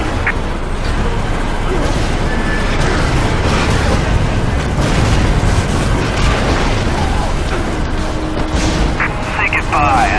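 Dense, continuous battle din from the video game Prototype, with overlapping bursts of gunfire and heavy explosive booms filling the whole stretch at high loudness, along with shouted voices mixed in.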